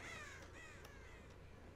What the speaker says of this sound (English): Oh, that's a bird. I thought that was a person.